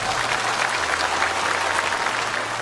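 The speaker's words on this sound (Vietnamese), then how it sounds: "Cho tràng pháo tay nữa." A loud, steady round of audience applause during a Buddhist Dharma talk, dense clapping that holds evenly throughout with a low hum beneath it.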